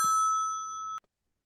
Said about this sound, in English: Oh dear me, the phone.